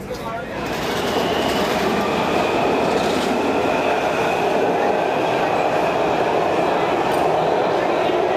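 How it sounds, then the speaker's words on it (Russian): A subway train rumbles steadily in motion, a loud continuous roar with faint rattling and a high whine throughout. "Да, мы едем на метро."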